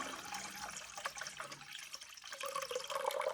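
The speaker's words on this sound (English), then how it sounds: "I am supposed to add 525 grams of warm water." Warm water pours from a tap into a bowl on a scale for sourdough bread dough, a steady splashing stream that shifts in pitch as the level rises, with no talking.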